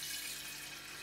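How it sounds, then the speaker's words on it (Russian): Water runs from a kitchen tap for rye sourdough bread, a brief, faint, steady hiss of flowing water with no voices. "Я беру воду,"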